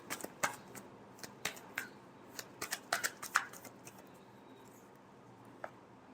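A deck of tarot cards is shuffled in quiet, irregular flurries of soft riffling and snapping clicks, close up and faint, tapering off toward the end with no talk.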